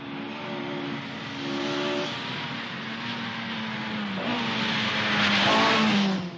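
A 1979 Australian Rally car drives a stage on its final run, its mid-pitched engine droning steadily and close, revving and rising in pitch as it accelerates, with no talk.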